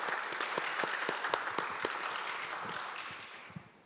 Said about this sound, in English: Please, big round of applause for Mr.